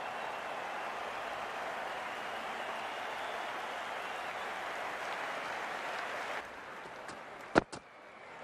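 A steady, broad roar of applause from a cricket crowd at a CPL 2020 T20 match, sustained and fairly loud, then dropping off near the end with a few sharp knocks.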